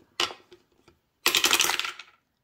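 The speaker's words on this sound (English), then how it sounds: "So let's go ahead and play shut the box. So I'm using 2 dice." Two dice rolled for a game of shut the box: a brief clatter, a few light ticks, then a longer rattling tumble of dice on a hard surface, close and crisp.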